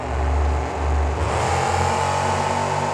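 Two Chevy monster trucks rev hard at the starting line of a monster truck racing final, a loud, close, throaty engine roar that swells and dips in pulses before settling into a steady high drone.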